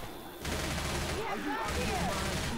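Rapid gunfire bursts from Left 4 Dead 2 versus mode, loud and continuous after a brief quieter opening, with players talking over the shooting.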